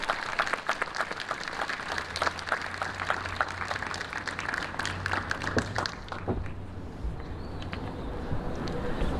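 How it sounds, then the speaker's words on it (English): One last round of applause for the award finalists at the 2022 GGHS Golden Fleece Awards: an audience claps briskly for about six seconds, then the clapping thins out into scattered claps and room noise. "if we could get one last round of applause for all of the most worthy finalists"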